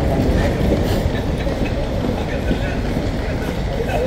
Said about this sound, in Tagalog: Ay, ito pala yung train.